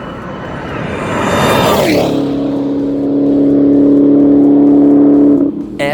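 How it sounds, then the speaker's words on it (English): Supercharged engine of a 2019 Dodge Challenger SRT Hellcat Redeye revving hard from the pit lane, rising sharply then holding a loud, sustained whining roar with a screaming supercharger for several seconds before cutting off. "you've got the supercharger screaming, sounds like a jet engine"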